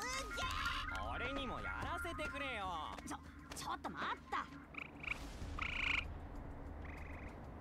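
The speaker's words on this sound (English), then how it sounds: "That gecko just sounds like a bunch of frogs we have around here." In the Sand Land video game, a gecko croaks like a chorus of frogs, with repeated rasping calls heard up close among other game sounds and chirps. No one talks over it.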